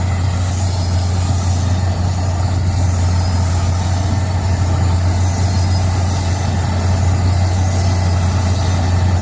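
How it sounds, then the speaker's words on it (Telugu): A new John Deere paddy harvester's engine runs steadily at the start of the rice harvest, a loud, continuous low drone that holds without a break and has no voices over it. "కొత్త బండి జాండియర్ వచ్చింది"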